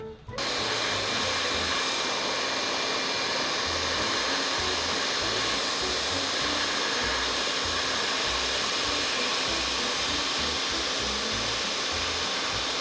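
A heat gun roars steadily and loudly up close, warming the stock stickers on a new KTM 1290 Super Adventure motorcycle for removal, a continuous blowing hiss that never lets up.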